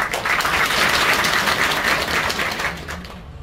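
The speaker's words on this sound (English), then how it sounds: "a round of applause for him" Loud, close crowd applause at a Maulud presentation event in Abuja, thick steady clapping that gradually tapers and fades out toward the end.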